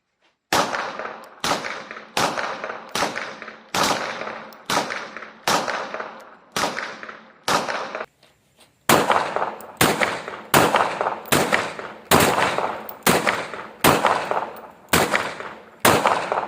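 Handgun shots from a G2C 9mm pistol and a Smith & Wesson Model 67 revolver, fired double-action: loud sharp reports in a steady series of about eighteen, evenly spaced roughly one second apart with a short pause midway.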